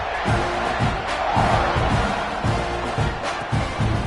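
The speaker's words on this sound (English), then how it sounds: "this crowd is buzzing after that last score" A college football stadium crowd at Missouri versus Texas A&M roars in a dense, steady buzz with rhythmic pulses rising through it, loud and enveloping.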